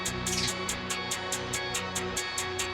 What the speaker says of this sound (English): These low octave hi-hats that come in really subtly